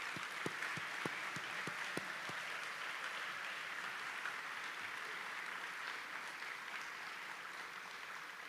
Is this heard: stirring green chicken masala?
no